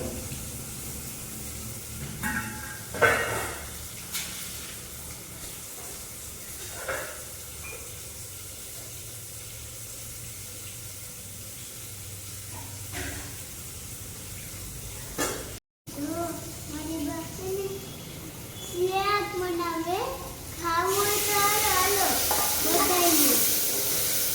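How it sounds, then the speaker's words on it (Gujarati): Spices tempering in hot oil for a vaghar, hissing and sizzling loudly after a quieter stretch of faint stirring and kitchen noise, with voices talking nearby. "મસાલો વઘાર નાખ્યો મસાલાનો વઘાર કર્યો"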